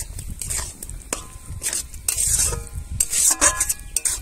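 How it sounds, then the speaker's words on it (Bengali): Semolina stirred into boiled potatoes with chaat masala in a pan, a spoon scraping and pushing the thick mixture in a steady series of close, rough strokes with no talking. "সুজি দিয়ে ভালো করে নাড়তে হবে।"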